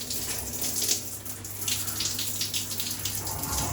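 A second shower at the far end of a house runs, fed by a Stuart Turner 3.0 bar pump, giving a steady hiss of spraying water with faint gushes and a low hum beneath; no speech.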